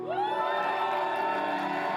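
A crowd at a live rap event cheers and whoops for a performer in a sustained, loud wave of shouting voices that holds steady for about two seconds.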